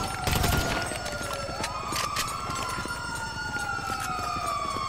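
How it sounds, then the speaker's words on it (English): An ambulance siren wails in Grand Theft Auto 5, its rising and falling tones sweeping steadily and loud throughout, with traffic noise beneath. "Oh, shit, it's the ambulance."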